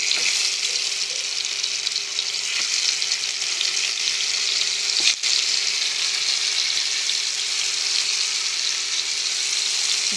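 Chicken pieces sizzle in white oil in a frying pan, a steady loud crackle and hiss running throughout with a couple of faint clicks and a low hum underneath.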